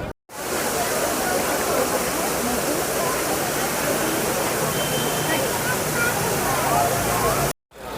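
Waterfall in Mussoorie, the hill station, roaring steadily and close with a dense, broadband rush of falling water that holds constant for several seconds without pause.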